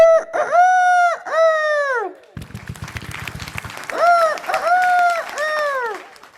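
A performer on a comedy stage show mimics a rooster with his voice, giving two loud crows up close, then a burst of audience applause, then several more drawn-out crowing calls.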